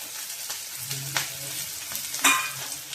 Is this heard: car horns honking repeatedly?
no